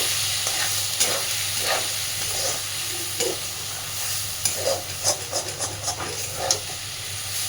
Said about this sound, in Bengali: খুব ভালোভাবে এবার মাছের তেলটার সাথে একটু মিশিয়ে নেব